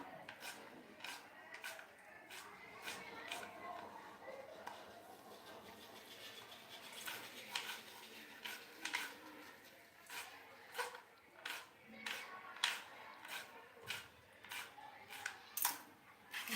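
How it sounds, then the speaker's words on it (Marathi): A knife finely chops a tomato on a board for restaurant-style Punjabi dal tadka, giving a steady run of close, crisp taps that speed into quicker bursts over a faint room background. "एक टोमॅटो आहे तो पण आपण बारीक चिरून घ्यायचा"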